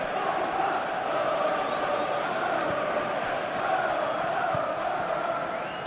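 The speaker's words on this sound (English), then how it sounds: "Crowd appreciates good football all round there." A simulated stadium crowd from a Bournemouth vs Chelsea Premier League football video game, a steady, dense roar of fans with faint chanting and cheers, continuous and moderately loud throughout.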